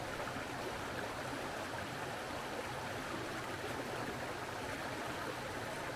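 Steady, dense rushing of stream water flowing below a waterfall at a trout fishing spot, a constant broadband wash with no voices.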